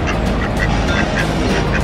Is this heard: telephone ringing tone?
no